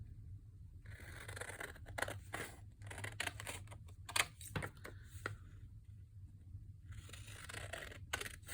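Scissors snipping paper for Christmas foldout pockets, a close series of short crisp cuts in irregular bursts with quiet pauses between, no voices.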